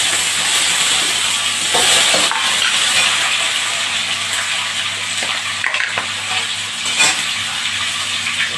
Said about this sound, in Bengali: তেল গরম হয়ে গেছে, এখন আলুগুলোকে ফ্রাই করে